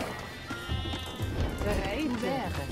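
Sheep bleating in Age of Empires 2 (Definitive Edition) gameplay, a few short wavering bleats rising out of busy game sounds with hoof clatter, while someone talks over them.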